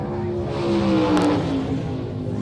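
Pro stock drag race cars roar down the strip at a 1971 NHRA Winternationals meet, a loud continuous engine drone that swells briefly and falls as they pass.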